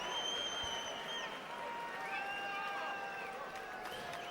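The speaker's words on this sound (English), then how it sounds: "a round of applause for both boxers who gave it their all" A boxing arena crowd applauds after a WBO title bout, a continuous wash of distant clapping and cheering with steady crowd noise and faint calls over it.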